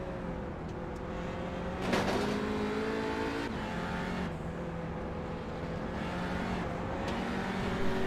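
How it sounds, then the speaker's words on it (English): A touring race car at Barber Motorsports Park roars steadily on board on the approach to turn 1, its engine note shifting with gear changes and throttle over a sustained mechanical drone. "I want to listen to this car going into turn 1."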